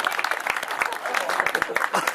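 An audience at a staged peasants' trial scene claps, with sharp, scattered hand claps over a mix of voices and murmuring.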